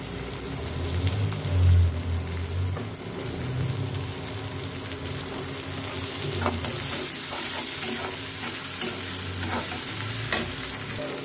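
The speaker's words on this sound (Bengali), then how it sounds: "এখানে হচ্ছে আমি মিষ্টি কুমড়া ভাজিটা করব।" Sweet pumpkin bhaji with onion and green chilies fries in a pan, giving a steady hiss of sizzling oil with scraping stirs on top. The sound is close and continuous, with no talking.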